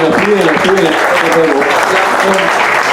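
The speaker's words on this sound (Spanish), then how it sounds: "Les voy a pedir un aplauso." An audience at a book fair in Pando applauds local musicians after a talk with them: steady clapping runs the whole time while people keep speaking loudly over it.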